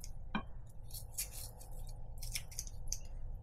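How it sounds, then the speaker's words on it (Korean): Kitchen scissors snip through cooked meat for yukgaejang, a Korean spicy beef soup, with several quiet crisp snips and clicks spread over a low room hum, no voices. "찢는 대신 이렇게 가위로 잘라줍니다"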